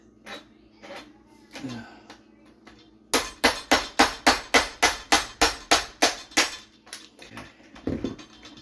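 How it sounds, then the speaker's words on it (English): Rapid series of about fourteen sharp metallic hammer strikes on a screwdriver punching through a garbage disposal's plastic plug, evenly spaced and loud, following a few quieter knocks and handling sounds. "you get a screwdriver and a hammer, and you're just going to put this onto the plug"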